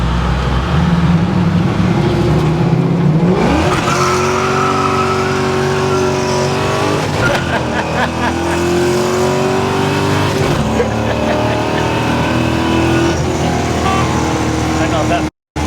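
A built bumpside Ford truck engine revs hard in repeated bursts while the tires squeal, loud and close, with voices talking over the noise.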